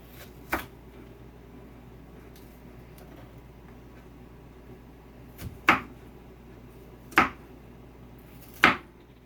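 Four sharp knife strikes on a cutting board while chopping garlic, one early and three spaced about a second and a half apart near the end, over a quiet room hum.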